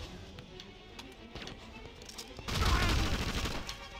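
Gunfire in the action game Indiana Jones and the Emperor's Tomb: scattered faint shots give way to a loud, sustained burst of rapid fire in the second half.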